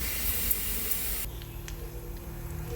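Grated coconut frying in ghee in a home kitchen, a loud broadband sizzling hiss that abruptly drops to a quieter, softer crackle with faint bubbling partway through.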